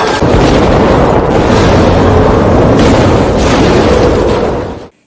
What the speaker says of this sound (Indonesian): tiba-tiba mobil itu ditembaki polisi dan meledak